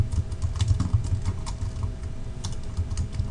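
Rapid typing on a computer keyboard while entering data into an Excel spreadsheet form, a steady close-up patter of many quick key clicks running continuously without any speech.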